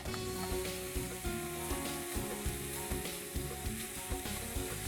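Jaggery and coconut heat together in a pan for a modak sweet filling, giving a steady soft sizzle with a faint rhythmic scraping pulse throughout. No one speaks.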